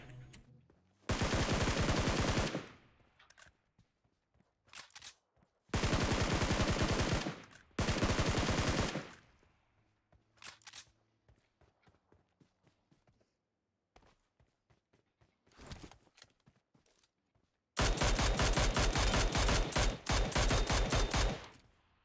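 Bursts of automatic gunfire in a video game shooter, several loud sustained volleys separated by quieter stretches with faint footsteps and clicks, ending in a long rapid burst.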